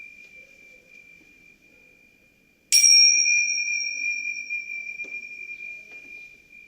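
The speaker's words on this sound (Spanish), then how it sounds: "Esas se llaman tinchas." A single bright metallic ting from tingsha cymbals rings out sharply after near silence, its clear high tone lingering and slowly fading.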